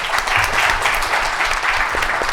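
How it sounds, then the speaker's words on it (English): Audience members at an energy policy event clap in a brief, dense round of applause that stays steady throughout, with no talk over it. "In fact, they deserve a round of applause."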